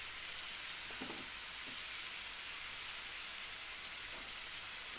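Tomato curry sizzling steadily in a hot pan as chili powder goes in, a bright, even frying hiss with a few faint stirring clicks and no voices.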